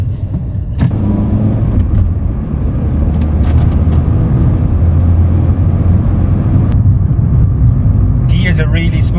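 Fiat 500 driving on the road, a steady loud engine and road rumble throughout with no breaks, a brief faint higher sound near the end.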